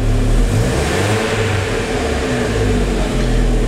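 A Chevrolet Corsa Classic engine idles steadily after an exhaust repair, a loud, even, close mechanical hum and rumble with no popping or backfires, running alone without talk.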